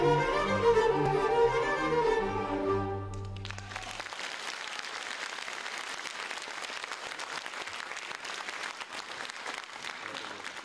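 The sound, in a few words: audience applause for children at a school concert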